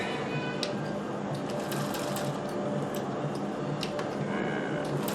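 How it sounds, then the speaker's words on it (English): A Singer 201K sewing machine runs steadily while top stitching a cravat, its needle mechanism ticking in a fast, even rhythm close by for the whole stretch, with faint clicks on top and no talk. "So I always start top stitching, and here I'm on my 201."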